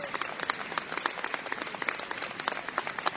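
Mourners gathered at the funeral of Fernando Peña applaud as his coffin is slowly carried out, producing continuous crowd clapping with individual claps standing out, somewhat distant and slightly muffled.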